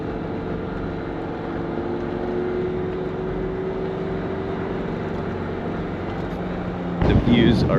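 A 4x4 climbing a steep trail in the Oregon Cascades in four-low second gear gives a steady, loud engine drone with cabin rumble throughout, and a burst of rattling and wind at the end.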